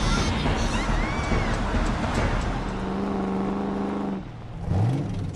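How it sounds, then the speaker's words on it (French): Cartoon motorcycles rev their engines and pull away, a loud revving roar with a sustained engine tone that drops off before a final rising whine. "Les filles sont parties avec nos motos."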